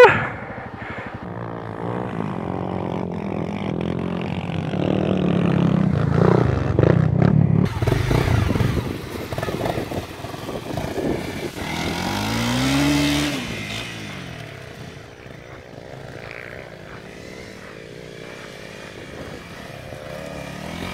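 Honda CRF 250 Rally motorcycle engine revving and labouring off-road, roaring loudly with rising and falling pitch, near and continuous, with a surge of throttle midway.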